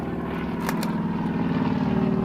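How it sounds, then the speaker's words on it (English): A propeller biplane or demonstration plane drones overhead at an air event, a steady pulsing engine hum with a faint beating rhythm, moderately loud and continuous with no talk. "we've got like biplanes and other demonstration planes"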